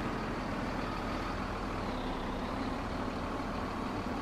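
Trucks with a trailer squeezing past a bridge in Farming Simulator 17, a steady low engine rumble and broadband road noise holding level throughout, with no talk.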